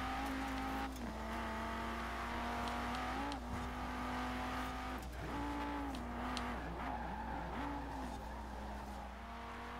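Honda Prelude racing in Forza Horizon 4, a steady engine drone holding pitch with brief dips at gear shifts and short bursts of tire squeal through the run.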